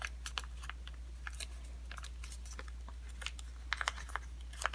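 Sheet of paper being creased and folded into an origami football, a run of soft crisp clicks and crinkles close up, with sharper bursts near the end and no talk.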